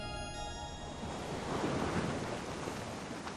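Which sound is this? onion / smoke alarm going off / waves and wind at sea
waves and wind at sea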